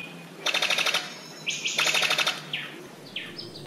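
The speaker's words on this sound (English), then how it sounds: "Over 600 species of birds are found in Papua, including the birds of paradise" Birds in Papua, Indonesia sing in clear, bright bursts: two rapid trilled phrases, then shorter rising whistled notes, close and loud against a quiet background.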